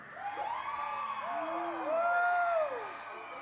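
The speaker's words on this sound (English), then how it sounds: "When you hear the name of your band, please let them know that you are here in support by cheering as loud as you can." A high school crowd at a Waco football game whoops and cheers for the Tennyson Texans band, with rising and falling shouted whoops and a steady roar of voices heard at a moderate distance.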